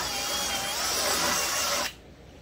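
A countersink bit spinning in a drill to deburr drilled holes gives a close, steady whirring grind for about two seconds, then stops abruptly, leaving quiet room tone.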